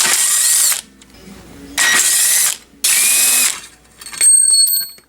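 A ratchet loosens lower front control arm bolts on a 2012 Ford Focus in three close, loud bursts of rapid clicking separated by short pauses, then a few lighter metallic clicks.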